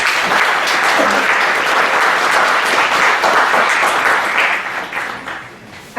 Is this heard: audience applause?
yes